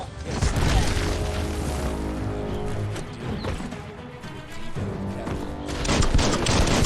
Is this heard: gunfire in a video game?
yes